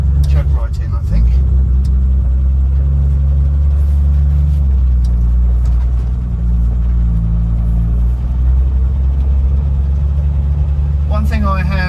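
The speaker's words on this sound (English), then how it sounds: "A lovely silky straight six engine and quite barky exhaust." A Triumph Vitesse straight-six engine hums steadily while driving, a smooth low drone with a barky exhaust note underneath, loud and close throughout with brief voices at the start and end.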